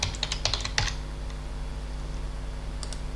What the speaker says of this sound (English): Yes, let's type.